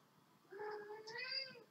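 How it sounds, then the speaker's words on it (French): A single drawn-out cat meow, close and fairly soft, rising then trailing off in a quiet room. "Vous avez le bonjour de mon chat."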